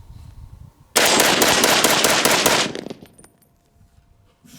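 A POF Revolution rifle fires a rapid string of shots at a shooting range, loud and close, a dense burst of about two seconds followed by quieter rattles and clinks as the firing stops.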